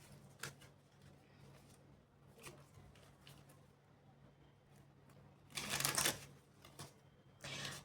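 Tarot cards drawn and handled in a deck during a full moon reading, with soft shuffling clicks scattered throughout and a louder burst of card riffling near the end, close and fairly quiet.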